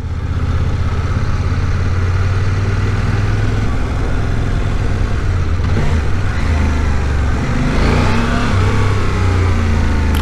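A CF Moto 800 MT motorcycle engine pulls and accelerates under a rider on the road, a loud continuous growl with wind rush and rising pitch through the ride.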